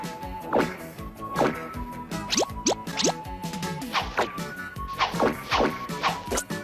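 Rapid cartoon sound effects from the TV series The Get Along Gang: whacks, smashes, boings and quick rising slide-whistle tones, one after another in a busy, bouncy stream with no talking.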